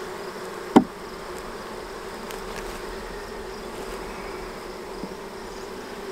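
Honey bees buzz around a hive in the late evening, making a steady, close drone throughout, with one sharp knock early on.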